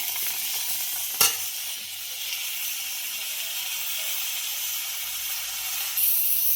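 Tomatoes fry in a pan with onions for tamarind chutney, a steady close sizzle and hiss with a sharp spatter near the start and a louder crackle toward the end.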